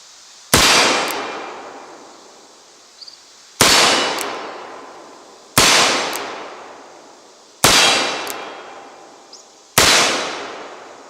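Five loud, sharp revolver shots from custom-made Colt 1851 Navy cartridge conversion revolvers, spaced about two seconds apart, each a sudden crack with a long ringing decay, with faint metallic clicks between shots and no talking.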